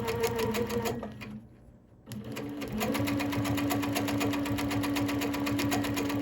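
Home sewing machine doing free-motion quilting of a star design, a fast rhythmic mechanical stitching chatter that pauses for about a second, then resumes steadily and close.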